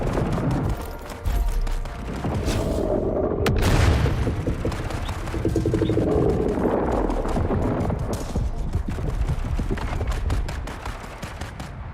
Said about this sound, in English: I'm just gonna throw grenades.